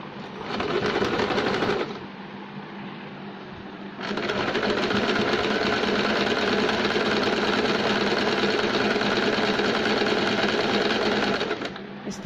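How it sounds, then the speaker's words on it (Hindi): An Usha Janome sewing machine stitches a buttonhole, its motor whirring steadily and close up, with a short slower stretch before it runs again continuously for several seconds and then stops. "अब हम सिलाई लगाएंगे।"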